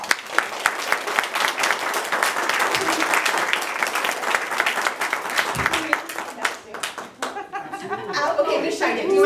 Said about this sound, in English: So everyone give her a round of applause.